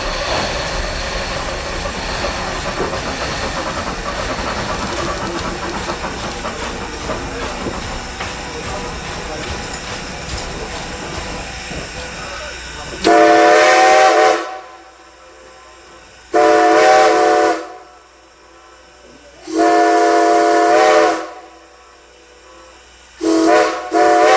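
A train at the Railroad Museum of Pennsylvania, Strasburg, rumbles along with a continuous broad roar, then loud horn blasts sound in several long bursts separated by short quiet gaps.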